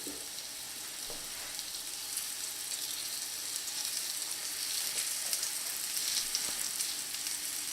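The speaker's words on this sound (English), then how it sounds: "When the pan is nice and hot, cutlet goes in like this." Floured chicken cutlet frying in melted butter in a hot pan, a steady bright sizzle and crackle throughout with occasional small pops, close and alone without talk.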